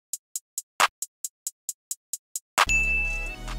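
A steady run of short, crisp two-step hi-hat ticks in an FL Studio beat gives way to a sharp drum machine clap, then a thick sustained electronic chord rings out, with a second clap partway through.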